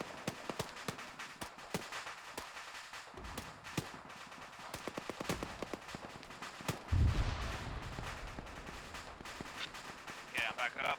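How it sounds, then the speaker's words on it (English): Gunfire in a Task Force Athena military shooter, flanking fire on a hillside: a steady run of sharp, fairly distant shots in bursts, with heavier blasts near the end, beneath radio-style voices talking. "Artemis producing flanking fire on them"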